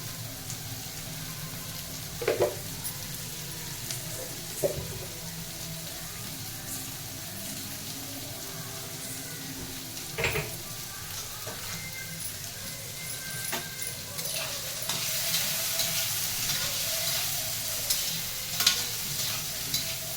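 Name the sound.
onions frying in a pan for bacchali leaves curry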